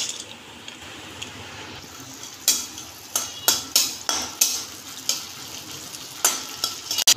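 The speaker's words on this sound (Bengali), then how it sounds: "আমি প্রথমে কাজু কিশমিশটা ভেজে তুলে নেব।" Cashews and raisins frying in ghee in a wok, a steady soft sizzle broken by a series of sharp stirring scrapes and clinks of a spatula against the pan, roughly a dozen in uneven rhythm, close and fairly loud with no talking.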